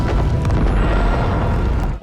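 A deep booming blast from a spaceship explosion in a Netflix sci-fi horror film, a heavy rumbling roar that fills the whole stretch and cuts off abruptly at the end.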